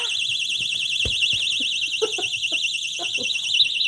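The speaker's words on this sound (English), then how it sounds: "Pull firmly on the key ring to allow the device to slide open and actuate the alarm" A Damsel in Defense personal safety keychain alarm shrieks with a loud, continuous warbling electronic tone that holds steady from start to finish, while faint knocks and brief speech sit underneath.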